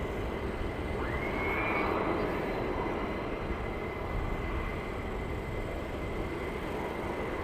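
A distant aircraft flying over Tid St Mary's near Wisbech, heard as a low, steady broadband rumble that swells faintly and holds at a fairly quiet level throughout.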